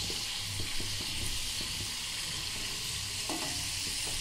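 Bakul pitha pieces fry in hot oil, several at a time, giving a constant dense sizzle with soft, repeated clicks of a spatula stirring close by.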